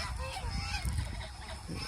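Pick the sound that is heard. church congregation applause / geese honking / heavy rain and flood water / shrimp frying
geese honking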